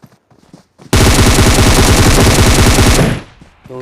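Automatic gunfire in Battlegrounds Mobile India bursts in as one loud, continuous rapid stream of shots lasting about two seconds, then cuts off sharply after quiet clicks and faint sounds at the start.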